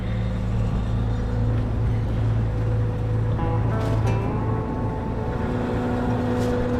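A farm machine's engine idles down after a metal fatigue failure, a steady close low rumble with a droning hum that continues throughout, with a brief faint clatter midway.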